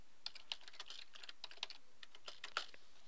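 Keys on a TI-84 graphing calculator are pressed in quick, irregular succession, a string of faint, crisp clicks with no talking.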